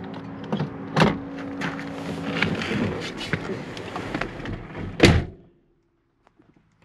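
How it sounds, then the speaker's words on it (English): Manual crank windows of a 1989 Chevrolet C2500 Scottsdale pickup being rolled, with rubbing, cranking mechanism noise and two heavier thunks, close by and fairly loud, ending in quiet. "Manual windows, they work just fine."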